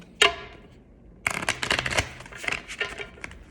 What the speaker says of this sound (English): I've been shuffling for a while now.